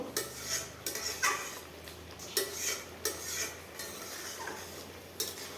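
A metal pot of okra sour curry with pumpkin seeds is lifted off a stove, giving close clanks and knocks of cookware with scraping, stirring-like sounds spread through the stretch and no talking.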